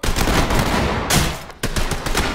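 Rapid gunfire from the tactical shooter game Ready or Not, a dense loud burst of shots that breaks off briefly twice before resuming, with no talk over it.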